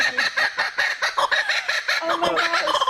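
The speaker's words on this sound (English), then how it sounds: "What you're hearing right now is a territorial call." Laughing kookaburra giving its territorial call: a run of loud, rapid, cackling bursts in a steady rhythm, close and clear, with no talking over it.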